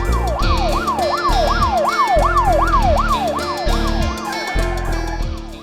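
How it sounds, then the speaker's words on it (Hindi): A loud wailing siren sweeps up and down repeatedly, close by, over a rumbling vehicle engine with no talking. "पुलिस सायरन की आवाज सुनते ही नागेंद्र जी घर से बाहर आए"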